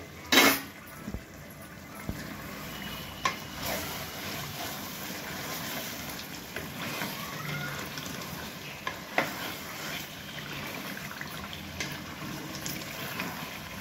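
Chicken cooks in a heated pot over full gas flame, giving a steady low sizzle and bubbling with occasional clinks and scrapes of a spoon against the metal.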